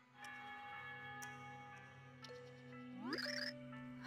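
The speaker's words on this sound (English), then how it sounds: "I hear bells." Bells ring with long sustained tones and a few struck chimes in the Super Paper Mario video game, steady and fairly quiet, a rising shimmering flourish near the end.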